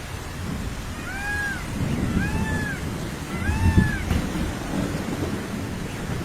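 Heavy rain roars as a dense, steady wash, with three plaintive cat-like mews rising over it.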